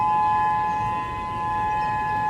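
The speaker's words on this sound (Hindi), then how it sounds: "लगातार सायरन से लोगों को अलर्ट करने की कोशिश की जा रही है।" A loud, steady tsunami warning civil defense siren wails continuously at a sustained pitch, slightly wavering, with a low rumble of background noise beneath it, after an 8.7 magnitude earthquake.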